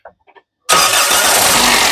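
A 2011 Toyota Etios G engine cranks briefly and catches right away on a single start, then runs loud and steady with a broad, even roar.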